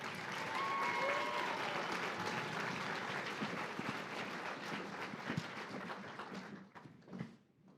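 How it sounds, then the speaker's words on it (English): A conference audience at a Journey for Hope keynote event applauds a speaker onto the stage: dense, sustained clapping fills the room, then thins out and fades near the end. "Please give her a round of applause to the stage"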